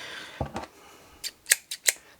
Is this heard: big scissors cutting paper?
yes